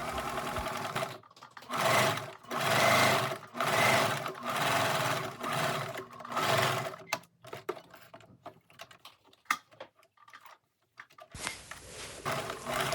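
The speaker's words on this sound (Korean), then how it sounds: "여기서부터 옆 시접선을 바느질 합니다" A sewing machine stitches the side seam of a linen wrap dress in a quiet workroom. It runs in several steady bursts of rapid mechanical whirring, then slows to short stop-start runs with clicks and handling noises, close and clear.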